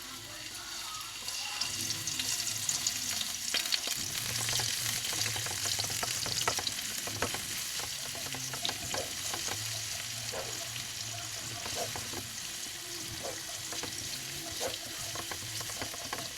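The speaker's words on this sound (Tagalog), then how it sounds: "maglalagay tayo ng konting mantika para lang magisa natin yung bawang and sibuyas" Garlic and onion sauté in a little oil in a pan, giving a soft, steady sizzle with repeated spatula scrapes and stirs, fairly quiet and close.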